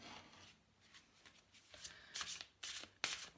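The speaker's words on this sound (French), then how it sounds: "Je vais vous tirer une autre carte d'un animal." Animal oracle cards being shuffled and drawn from a deck, a soft papery riffling that builds into several sharper close-up flicks and snaps near the end, with no talking.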